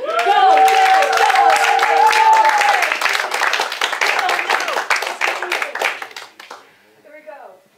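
Audience clapping and cheering at a live book event for David, a dense loud burst of applause with shouts and voices mixed in, thinning out and fading toward the end.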